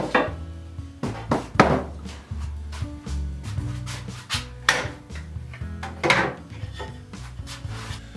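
A hand saw cuts through wood for a dressing table bench, with a quick run of sharp, rasping strokes followed by a steady back-and-forth sawing rhythm, close and fairly loud.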